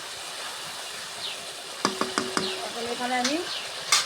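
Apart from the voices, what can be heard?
spice paste frying and being stirred in oil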